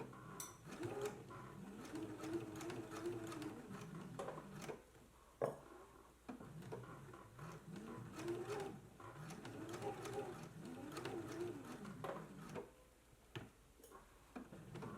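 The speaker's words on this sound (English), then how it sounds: "Now we can go ahead and do a stitch in the ditch right here, sewing right into this groove" A home sewing machine stitches in the ditch along a pressed seam groove on a girls' dress, running in quiet repeated bursts with a rhythmic ticking whir and short pauses between runs.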